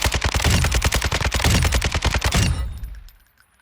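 An RPK machine gun in Warzone 2 fires a rapid burst of about twenty close, loud shots in a steady rhythm for two and a half seconds, then the echo fades away.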